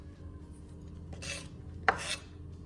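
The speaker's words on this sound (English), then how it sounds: "So cut it and try to take a long strip." A knife slices food into long strips while preparing white sauce pasta, giving two brief, quiet rasping cuts against a low background hum.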